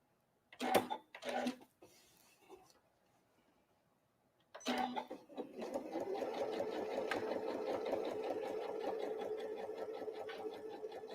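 Sewing machine tacking down apron fabric: a couple of short stitching bursts, a pause, then a longer steady run of fast mechanical whirring close by.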